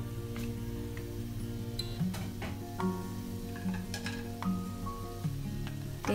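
Pieces of cut chicken frying in a spiced masala for a Kerala-style chicken curry, with a steady low sizzle and repeated scraping and clinking from stirring in the pan, fairly quiet and close.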